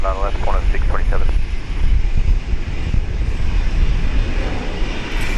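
A Qantas airliner lining up on runway 19 left at Brisbane Airport, a loud steady jet engine roar with wind rumble throughout, heard alongside an air traffic control radio exchange.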